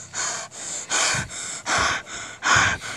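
Heavy, out-of-breath panting from one person, close and loud: about six rough gasping breaths in a steady rhythm, each a breathy rush of air with no words.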